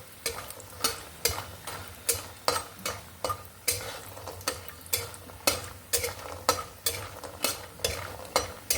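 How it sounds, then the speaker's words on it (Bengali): Sun-dried lentil dumplings frying in oil in a kadai, a continuous sizzle punctuated by regular sharp scraping strokes of stirring, roughly two per second, close and steady throughout. "এই যে বড়িটাকে এইভাবে লাল লাল করে একটু ভেজে নেব"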